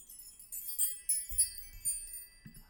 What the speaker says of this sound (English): Let's go with wind chimes.